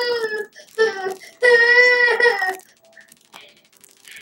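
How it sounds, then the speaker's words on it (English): A young child cries indoors in bursts of high wailing sobs with short breaths and pauses between them, close and fairly loud, fading to quiet whimpers at the end. "If you hear my son crying or his tablet playing in the background or his TV"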